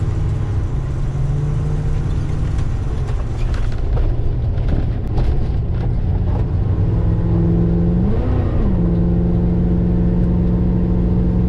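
Car driving through downtown Ocala at rush hour, a loud, continuous engine and road rumble with a brief rise in engine pitch midway.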